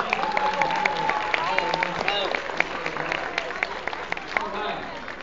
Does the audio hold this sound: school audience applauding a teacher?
yes